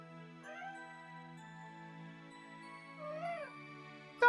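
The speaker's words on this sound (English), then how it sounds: "God, the little cat sounds it makes!" A newborn baby dinosaur in the video game b.l.u.e. - Legend of Water lets out small, faint cat-like mewing chirps, two soft rising-and-falling calls over a quiet tonal background, ending with a brief sharp sound.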